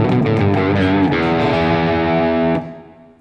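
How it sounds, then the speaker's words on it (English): Electric guitar played through an old MXR Distortion 3 pedal, a loud, thick distorted chord strummed with a few picked attacks, then left to ring out and fade over the last second. "I've got an old MXR Distortion 3,"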